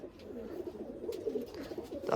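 Domestic pigeons coo in a low, soft, continuous run at close range, with no talk over them; the birds are ringed and tagged.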